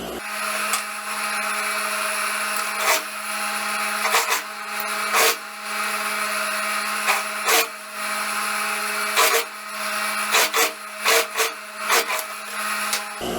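Domestic sewing machine stitching the sleeve seam of a wrap blouse with a flared godet sleeve, a steady close whirring hum broken by short bursts and pauses throughout, no voices.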